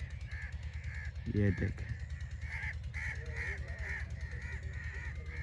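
A flock of crows caws over a wheat field, the calls repeating in short irregular bursts at a moderate distance, with someone speaking briefly over them and a steady low rumble underneath.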